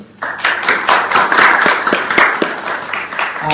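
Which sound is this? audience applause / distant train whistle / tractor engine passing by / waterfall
audience applause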